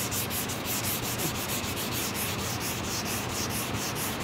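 Sandpaper rubs steadily across a car body panel, removing 80-grit scratches in a continuous rhythmic back-and-forth rasp, close and even, with no speech.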